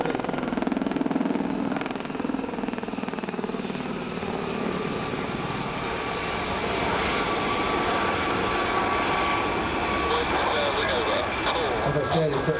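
Gazelle helicopters fly a display at an air show, a steady rotor and engine roar holding throughout at close range, with a commentator speaking over it.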